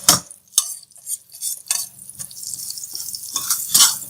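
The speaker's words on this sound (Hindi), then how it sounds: "जीरा को थोड़ा सा भून के इसके अंदर ये चाट मसाला, नमक और खट्टे आलू का मसाला डाल देंगे" Cumin seeds roast in a pan with chaat masala and salt, giving soft intermittent sizzling broken by a spoon scraping and tapping against the metal in uneven strokes, close and moderately loud.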